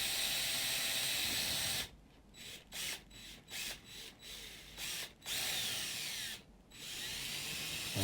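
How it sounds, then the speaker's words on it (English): An electric drill bores straight through a wardrobe panel indoors, running in a steady high whine broken by several short pauses as the bit is eased in and out, then running on continuously. "we can start drilling straight through the wardrobe"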